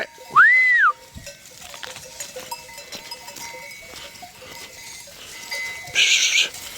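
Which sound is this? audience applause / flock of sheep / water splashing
flock of sheep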